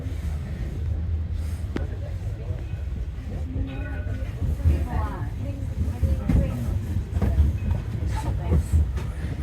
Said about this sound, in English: Hey, there goes the tram, man.